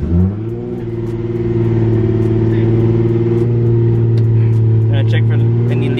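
Nissan 350Z engine with a backfire pop tune, cold-started with coolant freshly added, running at a loud, steady idle with a strong low drone and faint crackle near the end.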